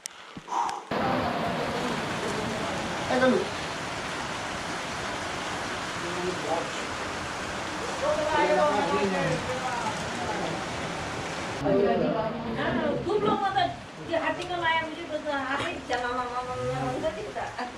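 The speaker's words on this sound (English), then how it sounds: "wait out the rain" Steady rain falls over a Himalayan mountain village on a winter trek to Annapurna Base Camp, a constant broadband hiss throughout, with people talking and other voices over it for much of the time.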